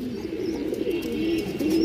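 A green-necked female pigeon coos in a low, rolling series of calls, close and clear with no voices over it.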